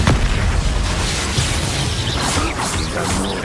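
Expulso spell blast in the video game Hogwarts Legacy, a loud, dense booming explosion with crashing debris that fills the whole short stretch without any speech.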